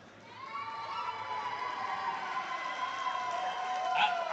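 Classmates from the 1990s cheer as a crowd at the Waynoka all-school reunion, the mixed shouting and yelling swelling gradually louder over several seconds with a sharper whoop near the end.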